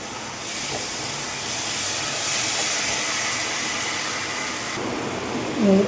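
A steady, loud hiss of sizzling in a hot pan as soy sauce and tomato sauce go in for egg chilli, continuous throughout with no break.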